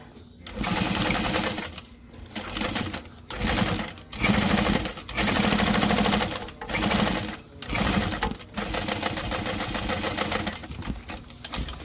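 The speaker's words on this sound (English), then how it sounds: "Then we'll open it up and top stitch on the bottom panel." A sewing machine top stitches the bottom panel of a handbag at a 5 stitch length, running in loud bursts of rapid whirring with short pauses between runs, close up.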